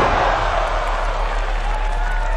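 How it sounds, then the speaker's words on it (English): A wrestling crowd roars in a steady wash of cheering and noise filling an arena, loud and sustained. "Can you hear the crowd?"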